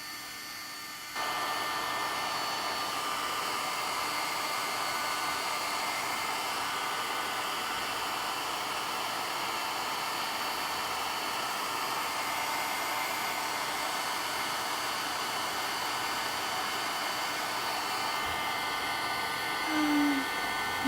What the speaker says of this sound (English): Obviously the force of the blow from the dryer moves the paint around